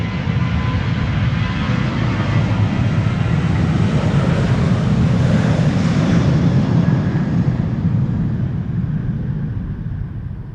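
A KLM airliner departing Amsterdam Schiphol for Edinburgh gives a loud, steady broadband jet roar that swells slightly mid-clip and holds for about ten seconds, with no voices over it.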